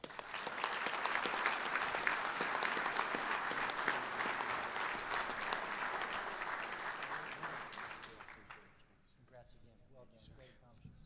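Sustained applause from a large audience at a military logistics awards dinner, loud and steady for about eight seconds before thinning out to scattered claps and quiet murmurs.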